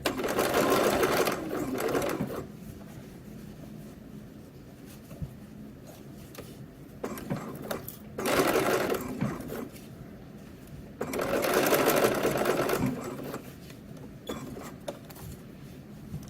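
A sewing machine stitches a sleeve seam in bursts of steady whirring, three main runs separated by pauses with quieter handling sounds, close and clear.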